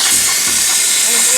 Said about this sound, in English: I thought I'd show you how to air down